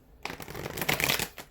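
A deck of cards is riffled quickly, a fast flurry of crisp fluttering snaps lasting about a second, close by.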